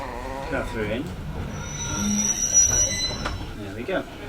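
A heritage steam train on the Bluebell Railway rolls along with loud, sustained wheel squeal and rattling carriages, a high screeching tone running through the middle, while voices talk in bursts over the rail noise.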